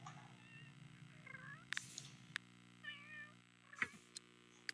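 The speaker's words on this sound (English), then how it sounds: "Now we are going to play with the kitty cats." Cats in a video game meow repeatedly, with short mewing calls over a quiet electronic hum and a few sharp clicks, all fairly faint.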